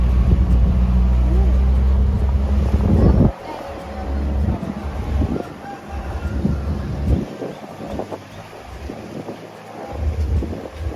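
A small boat with a Mercury outboard motor runs at a floating market, a loud low engine rumble that cuts out abruptly partway through, leaving wind buffeting and faint background activity.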